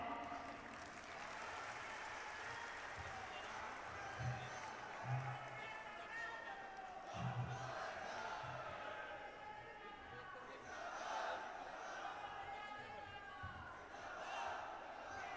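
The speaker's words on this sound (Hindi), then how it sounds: "छत्तीसगढ़ के माटी के लाल का तालियों की गड़गड़ाहट के साथ स्वागत होना चाहिए।" Audience applause welcoming Dr. Sandeep Pathak at a swearing-in ceremony in Raipur, a steady wash of clapping from a crowd lasting throughout, with voices and scattered thumps mixed in.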